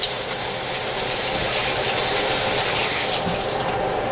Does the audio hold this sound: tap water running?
yes